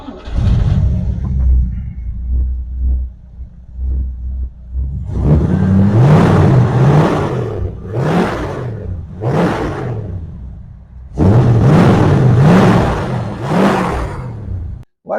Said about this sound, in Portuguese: Agora a gente vai ouvir então o motor desse Maverick Quadrijet com o Cadron.